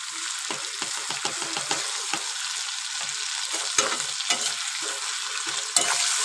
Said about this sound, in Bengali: আদা বাটা দিয়ে খুব ভালোভাবে ভেজে নেব মশলাটা